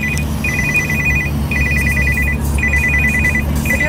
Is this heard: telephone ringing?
yes